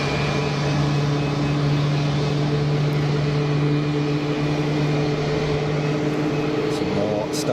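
Jet engines hum steadily at Geneva Airport as an Air France aircraft taxis and others start up, a loud continuous drone with a sustained low tone, no talk.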